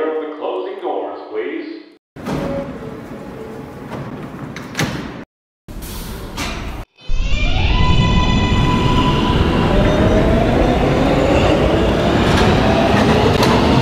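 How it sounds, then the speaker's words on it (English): An R143 R local subway train running, with interior announcements and door sounds early on, then a loud, steady rumble and rising motor whine as the train accelerates and travels. "This is a Gatlin-bound R local train."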